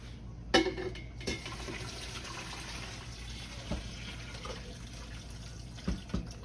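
Turkey stock pours and splashes steadily through a strainer into a pot, with a few clinks of metal cookware standing out against the running flow.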